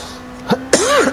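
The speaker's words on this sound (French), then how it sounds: "C'est le matin, c'est souvent je tousse le matin" A person coughs twice in quick succession in the morning. The coughs are close and loud: a short sharp burst followed by a harsher, voiced cough that trails off, set against a faint steady hum.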